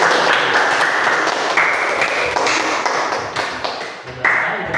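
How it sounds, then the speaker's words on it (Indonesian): Students in a class group-guidance session on bullying clap their hands together in a dense, continuous round of applause that fills the room, loud and close, with faint voices mixed in. "Tepuk tangan dulu,"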